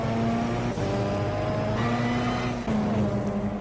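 Race cars in a GT300 sim race at the Nurburgring run side by side, their engines droning loudly and steadily with overlapping harmonic tones and a brief dip as one gear-shifts, close and continuous.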